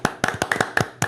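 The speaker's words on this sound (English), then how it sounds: "So, a round of applause," A small group claps for a short moment on a talk-show stream, around eight sharp, uneven hand claps close by with no voices.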